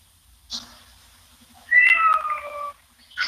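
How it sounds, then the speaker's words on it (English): A cat cries in a few separate meows, a short call first and then a longer, louder wailing meow, with another beginning at the end; close and clear in an otherwise quiet room. "this cat cries all day like it's got separation anxiety"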